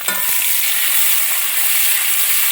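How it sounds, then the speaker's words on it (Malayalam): Sliced onions, two of them cut lengthwise, sizzle and fry in a pan while being stirred, a steady loud hiss throughout with a brief scrape near the start and no voices. "നന്നായിട്ട് ഇളക്കി കൊടുക്കുക"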